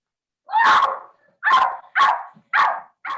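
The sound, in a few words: dog barking sound effect in toy theater show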